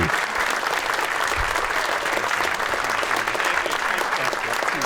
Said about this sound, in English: let's give a hearty round of applause